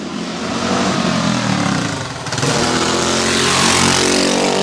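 A twin-engine, air-cooled four-stroke 424 cc mini dragster runs loudly up close, its pitch rising as it revs, a buzzing, rattling drone that builds and holds near the end.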